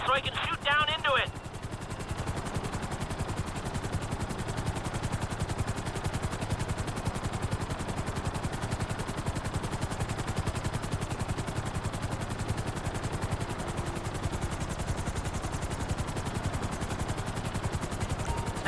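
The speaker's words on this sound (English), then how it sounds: "I need you to hold the chopper above it while I take a look." A hovering helicopter in the video game GTA 5 produces a continuous rapid rotor chop with a steady engine drone, loud and unbroken throughout, after a brief burst of other game noise at the start.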